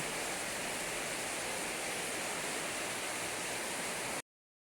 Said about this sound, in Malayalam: പൊളി മഴ